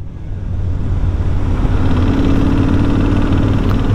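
A Kawasaki VN1500 chopper motorcycle idles with a loud exhaust, giving a steady, close, deep rumble that holds evenly throughout with no speech.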